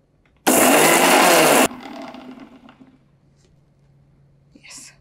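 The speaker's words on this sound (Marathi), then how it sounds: "झाकण ठेवायचं आणि याची भरड काढून घेऊया. खूप बारीक पेस्ट करायची गरज नाही" A mixer grinder coarsely grinds green chillies and cumin seeds in one loud, steady burst of a little over a second, then cuts off and leaves a fading rattle and quiet background.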